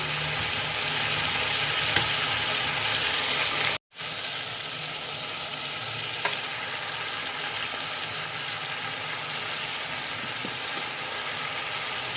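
Vegetables and spinach shoots fry in a pan with a steady, even hiss close by, broken by a brief cut before the same constant sizzle resumes.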